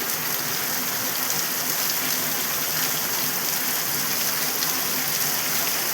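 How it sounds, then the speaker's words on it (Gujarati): Steady, dense rain falls and patters on surfaces, a constant loud hiss that stays even throughout with no voices. "વરસાદ ચાલુ થઈ ગયો, જોઈ લો"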